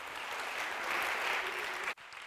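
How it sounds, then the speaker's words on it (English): A conference audience at an annual forum breaks into a steady, full round of applause, dense clapping that holds evenly before cutting off abruptly near the end, leaving quiet room tone. "give yourself a huge round of applause"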